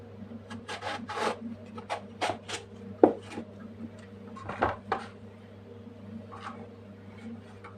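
A knife slices through an eggplant in a kitchen, cutting pieces three fingers wide, with repeated short rasping strokes and soft taps on a board, close and fairly quiet.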